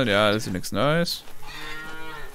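In the farming game Farmer's Dynasty, a cow gives a loud, drawn-out moo in two bursts, and someone talks briefly afterward.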